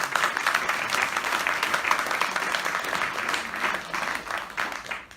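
Sustained applause from an audience at a live Jatra Pala musical stage production, dense steady clapping filling the hall with no speech over it.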